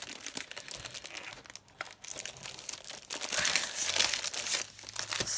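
Paper envelopes crinkle and rustle while being handled and sorted, close by, in a busy run of crisp crackles with short pauses.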